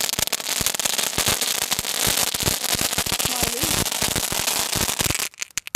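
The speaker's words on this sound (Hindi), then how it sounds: "देखते हैं हमारे स्माइली वाला पटाखा कैसा चलता है" A smiley-face Diwali firecracker goes off close by in a long, loud run of rapid crackling pops and bangs, dense and continuous for about five seconds before it abruptly stops.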